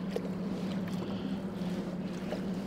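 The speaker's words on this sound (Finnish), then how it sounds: "pikkusen potkuri kavitoi." Outboard motor on a small winter boat running steadily on water, its propeller faintly cavitating, a continuous close engine drone with a strong low hum throughout.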